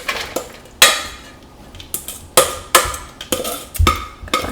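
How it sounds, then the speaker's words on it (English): Red cabbage tossed with salt and dumped onto a metal baking sheet, giving a series of loud, sharp clattering impacts with rustling scatter, about seven bursts in quick irregular succession. "Dump it right on the baking sheet"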